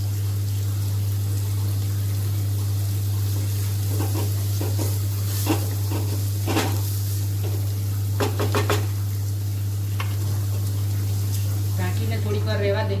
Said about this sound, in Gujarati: હલાવી લઈશું બરાબર બધું।